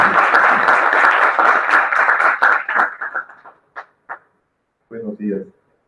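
An audience at an education conference in Mexico applauds a doctor before his talk, loud dense clapping that thins into scattered claps and fades out, followed by a brief spoken voice.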